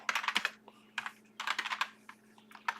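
Fingers tap rapidly on a computer keyboard in uneven bursts with short pauses between them, the clicks soft but close against a faint steady hum.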